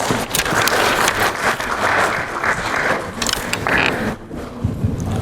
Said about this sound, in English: Please welcome me with a warm round of applause.